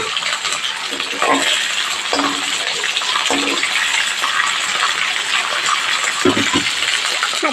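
A kitchen tap runs steadily while hands are washed beneath it, a continuous close splash with small clinks and knocks scattered through.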